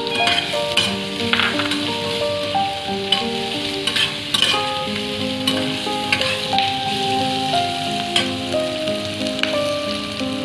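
Diced onion sizzles steadily in a hot pan while being sautéed for vegetable Manchurian gravy, a loud continuous frying hiss broken by occasional clinks and scrapes of stirring, with background music playing alongside.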